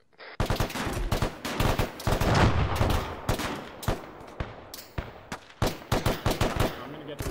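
Sustained gunfire in the video game Arma, a long series of rapid automatic bursts and single cracks, loud and close, with a voice speaking at moments between shots.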